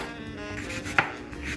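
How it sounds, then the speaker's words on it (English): An onion being chopped into small minced pieces for sloppy joes gives a single sharp knife strike on a board, quiet and close, over a low steady background hum. "take half of our onion here, half of our onion, and chop it up into smaller pieces"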